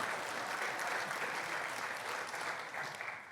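A church congregation applauding during a sermon: a dense, steady burst of many hands clapping that fades slightly at the end, with no talk over it.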